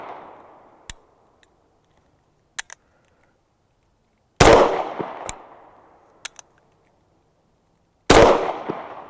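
Sig Sauer SP2022 pistol fired at a target from long range, a few sharp loud shots spaced seconds apart, each ringing out with a decaying tail, plus faint clicks between them and no talking.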